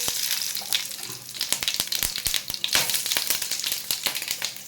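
Mustard seeds pop and splutter in hot oil, giving a dense run of sharp crackles and sizzling bursts with no voices.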